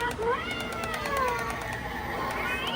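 A cat-shaped Halloween decoration at a Home Depot store gives off a series of electronic meows with rising and falling pitch, heard up close over steady store background noise.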